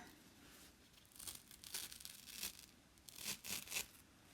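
A Chalk Couture transfer sheet peeled slowly off a surface, a faint, close, crackling tear-like rustle in several drawn-out pulls over a few seconds.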